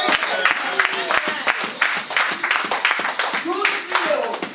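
A church congregation claps and cheers together, a dense burst of applause with voices mixed in, close and lively throughout.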